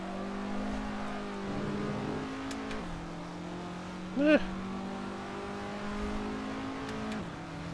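Race car engine in the Assetto Corsa racing sim drones steadily near, its pitch dipping at gear changes and rising again, with a brief tire squeal midway and a voice speaking over it.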